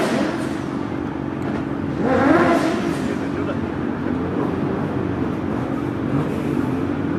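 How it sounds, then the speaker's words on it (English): A Caterham Super Light race car with a 1667 cc engine accelerates up a hill climb course, its engine note rising to a peak mid-clip. It sounds fairly distant under continuous commentator talk. "In his Caterham Super Light,"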